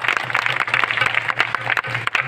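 An audience at a village festival of traditional singing claps for the visiting village head. The applause is dense and continuous, with crisp overlapping hand claps and a steady low hum of crowd and sound system beneath.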